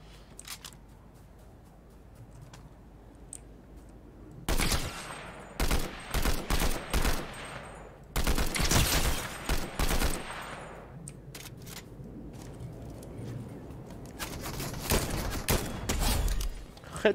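Gunfire in the video game Fortnite, loud bursts of rapid automatic shots in clusters, with quieter ambient game sound between volleys.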